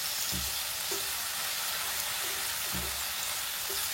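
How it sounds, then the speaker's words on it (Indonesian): Shallots and garlic stir-frying in a pan for a tofu and garlic chive stir-fry, a steady close sizzle throughout with a couple of soft stirring scrapes, no talk. "bumbu nu tadinya bawang beureu, bawang bodasna dioseng nepi ka seungit."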